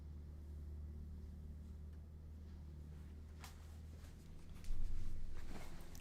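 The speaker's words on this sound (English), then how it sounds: "So there's a big truck outside." Steady low rumble of a large leaf collection truck idling outside, distant and continuous, swelling louder near the end.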